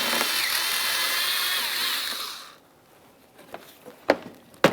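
A power tool whirs for about two and a half seconds while backing out a 7mm bolt near the headlight of a 2006-2012 Ford Fusion, then stops, followed by a few light clicks and knocks.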